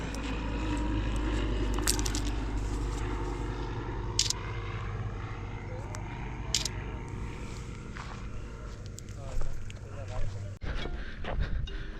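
Steady droning of a propeller training aircraft flying near Baramati airport, fairly close and continuous, with scattered handling bumps and brief voices near the end.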